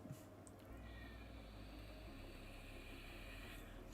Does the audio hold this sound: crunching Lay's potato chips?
no